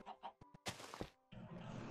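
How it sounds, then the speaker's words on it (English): Minecraft chickens cluck in a few short, close bursts, ending in a longer squawk, quiet and free of talk. "So we got like 8 chickens down here."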